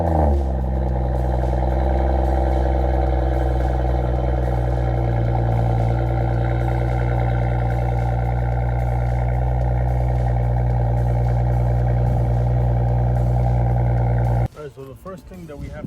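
A BMW X5 M Sport starting from cold gives a loud, steady engine drone with strong low harmonics that holds for about fourteen seconds before abruptly cutting off.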